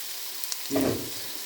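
Sausage frying in a pan, a steady soft sizzle with a brief louder burst of sputtering partway through.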